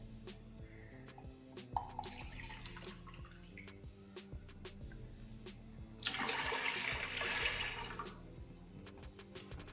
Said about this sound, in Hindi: और 2 कप पानी डाल देंगे इसके अंदर